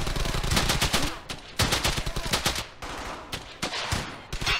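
A player's gun in the Brothers in Arms: Hell's Highway video game fires in rapid automatic bursts, several close, loud strings of shots separated by short pauses.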